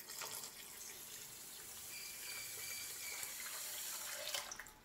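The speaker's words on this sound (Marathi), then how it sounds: "मी इतकंच पाणी ओतलेलं आहे." Water is poured from a vessel onto sugar in a cooking pan for gulab jamun syrup, a steady soft splashing trickle that runs on for several seconds before tapering off, with no talk.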